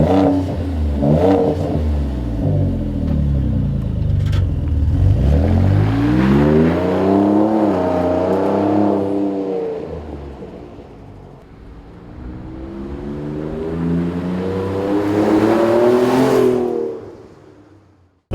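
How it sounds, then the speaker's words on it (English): A 2017 Ford F-150 Raptor with a Ford Performance by Borla Touring dual rear exit cat-back exhaust revs up twice, rising to a deep throaty roar and falling back, loud and close with a rumbling low tone. "I'd say it's one step above a stock exhaust"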